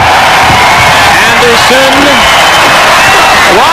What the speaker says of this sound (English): The crowd rises in the SkyDome.